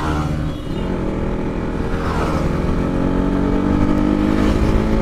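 Several motorcycles, including KTM Duke 250, KTM RC 200 and Yamaha MT-15 bikes, accelerate hard together on a Sunday group ride, a loud sustained layered engine roar with rising revs close by.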